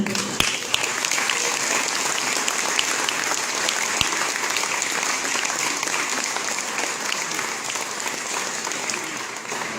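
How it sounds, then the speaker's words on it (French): An audience at an award ceremony in the Bordeaux Métropole area applauds steadily, a dense and even wash of clapping that lasts throughout with no pauses. "Merci d'applaudir Samuel Pistori."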